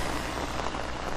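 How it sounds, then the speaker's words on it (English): Steady rain falling hard during an outdoor walk in Mooresville, North Carolina near Lake Norman, a dense, even hiss of drops hitting surfaces all around, with no voices. "You can hear the rain, right?"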